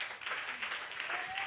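Church congregation applauding and cheering during a Christmas Day service, a dense steady wash of clapping held at moderate level throughout, with faint voices mixed in.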